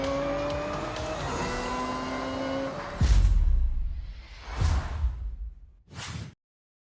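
Race cars on a full grid at the start of a Forza Horizon 6 circuit race: a loud sustained engine drone, then several close whooshing pass-bys with tire noise, ending abruptly.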